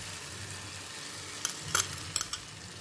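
Beaten eggs hit a pan of thick tomato and onion masala with a steady, soft sizzle, broken by a few sharp metallic clinks of a spoon against the pan near the end.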